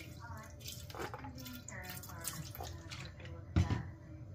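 Water pours and splashes into a slow-cooker pot for Cajun pulled pork, a soft trickling sound under people talking nearby, ending with a brief heavier splash.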